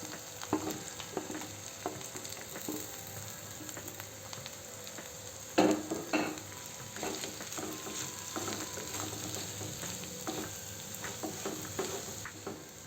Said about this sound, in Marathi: चांगल्याने मिक्स करून घेतली आहे।